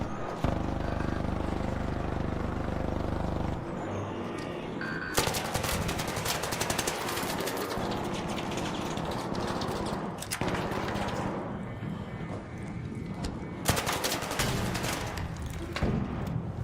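An automated turret in the ARC Raiders game fires long rapid bursts of machine-gun fire, loud and sustained with short pauses between volleys and occasional heavier booms.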